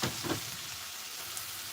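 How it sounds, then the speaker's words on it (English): Food sizzles in a frying pan while game-day appetizers are cooked, a steady, fairly quiet crackling hiss that runs throughout. "It's got a sizzle going on right now"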